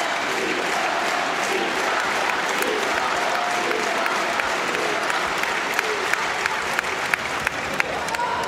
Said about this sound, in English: the crowd is packed out with Italian fans